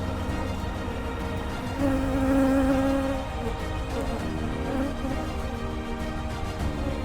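Honeybees hum in a low, continuous drone around an opened beehive, swelling slightly for a moment, close and steady with no voices.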